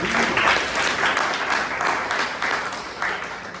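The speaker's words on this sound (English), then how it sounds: "please give them both a big round of applause" Members of a Bangalore Toastmasters club meeting give a speaker and an evaluator a big round of applause, a close, moderately sized group clapping in uneven waves that stay steady throughout.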